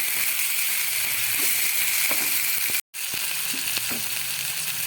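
Chopped tomato frying with onion, ginger and garlic in a pan for an egg curry, a steady bright sizzle running throughout, broken by a brief dropout near the middle, with a few faint stirring clicks.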